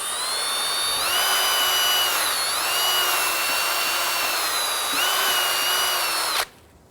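A high-pitched power drill spinning a bore brush during a front brake job on a 2008-2013 Infiniti G37 whines steadily for several seconds, pitch dipping briefly under load, then cuts off abruptly.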